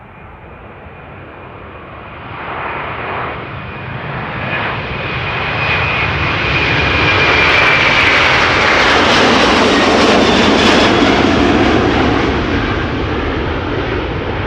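An Atlas Air Airbus A330 jet takes off from a runway at Amsterdam Schiphol, its engine roar swelling steadily from a distant rumble to a loud, broad sustained thunder before easing slightly, with no voices.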